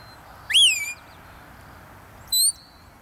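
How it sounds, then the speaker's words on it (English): Short sheepdog herding whistle blasts, two brief, shrill, rising-then-falling whistle calls about two seconds apart, close and clear against quiet outdoor background. "when I blow, I'll blow the left whistle or the right whistle short because I want him to take a short flank."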